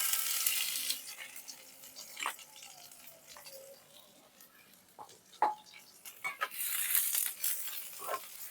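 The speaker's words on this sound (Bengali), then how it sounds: "রসুন আর পেঁয়াজ ভেজে নিচ্ছি।" Garlic and onion sizzle in mustard oil in a pan while cooking beef, a soft continuous frying hiss broken by light clinks and stirring sounds and a few short flares of louder crackle.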